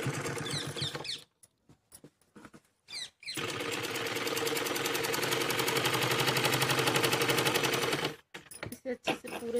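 A sewing machine stitches along the waistband belt of a full-flare Punjabi Patiala salwar, running in one long steady burst after a few short stop-start runs, close and fairly loud.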